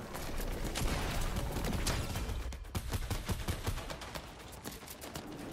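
Suppressed SCAR fire in Fortnite, rapid muffled bursts of shots crackling in quick succession, fairly loud and dense, with scattered single pops as the firing trails off.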